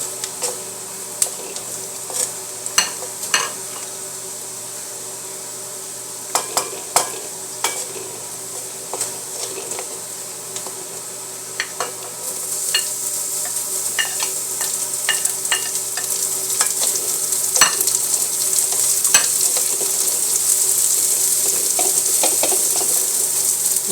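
Onions frying in a pan for chow mein give a steady sizzle that swells louder midway, broken by scattered sharp clicks and spatters of the utensil, with no talk.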